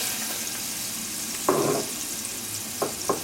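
Onions sauteing in melted butter and oil in a pan over medium-low heat, a steady soft sizzle broken by a few louder scraping stir bursts, close by with no talk.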